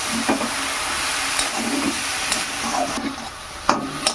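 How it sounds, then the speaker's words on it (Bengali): Chickpea greens are stirred with spices in a frying pan, with a soft steady sizzle under repeated close scraping strokes of a spatula and a sharp clack near the end. "মশলার সঙ্গে মিশিয়ে নেব এই শাক রান্না করতে বেশি সময় লাগে না"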